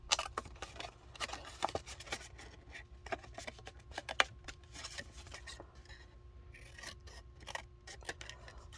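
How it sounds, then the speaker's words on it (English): Scissors snip through fabric to shape pocket pieces, cutting the bottom edge at an angle, a quick close series of crisp snips and rustling cloth, with quiet pauses between bursts. "And let's cut the bottom at an angle."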